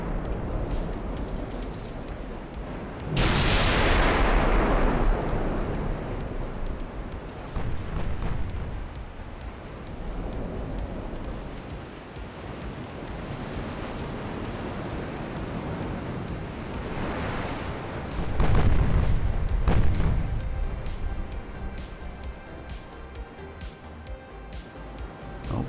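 Warship guns fire in the Ultimate Admiral: Dreadnoughts naval battle game over steady wind and sea noise, with two heavy booming salvos that roll off slowly, one early and one later.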